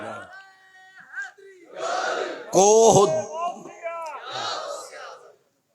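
At a religious gathering in Multan, a crowd shouts slogans in loud, rising bursts. A leader's call is answered by many voices before the chant drops away into silence.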